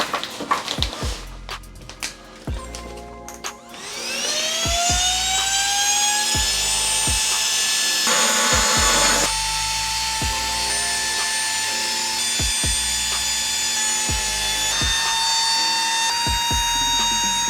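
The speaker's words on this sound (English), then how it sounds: "let's actually pump up the mat with it, see how long it takes and see how much of the mat is fully pumped up." A Flextail Zero electric pump inflates a Thermarest sleeping mat, a high steady motor whine that rises as it spins up and drones on close with small shifts in pitch, over occasional handling knocks.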